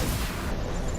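A single heavy, booming gunshot fires in a video game, a dense loud burst of noise filling the brief moment.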